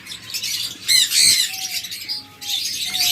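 Red-eyed pet birds let out loud, harsh squawks close by, a couple of rough bursts among a few thin, sustained whistling calls.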